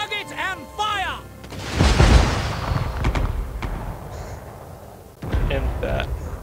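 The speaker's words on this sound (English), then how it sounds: "Hellstorm rocket battery! Target and fire!" Hellstorm rocket battery firing in Total War Warhammer II, heard as a loud burst of whooshing, booming launches mixed with battle noise, following a shouted voice and with more voices talking over the clamour.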